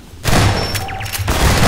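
A sudden loud explosion in Half-Life Episode One, a broad roaring blast that starts abruptly and holds for over a second, close and dominant.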